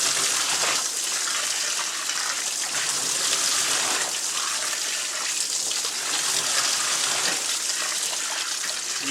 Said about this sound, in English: I fill my sink about halfway up. I can rinse and agitate this pretty good.